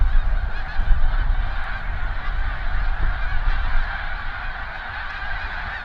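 A large flock of snow geese honks continuously, a dense overlapping chorus of calls at moderate distance with steady loudness and no single bird standing out, set at a goose island in the St. Lawrence near Montmagny.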